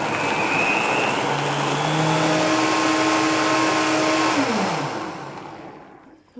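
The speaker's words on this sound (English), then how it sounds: "So I have the Vitamix blender here, and it has a smoothie setting," A Vitamix blender runs on its smoothie setting, a loud steady motor roar with a rising whine that holds, then drops in pitch as it winds down and stops near the end.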